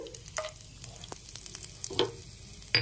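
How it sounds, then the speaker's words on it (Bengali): Cardamom, cinnamon and cloves fry in hot oil with a soft, quiet sizzle, broken by a few light scrapes and clicks of stirring in the pan. "এলাচ দারচিনি আর লবঙ্গ ফোড়নে ভালো করে একটু ভেজে নিচ্ছি"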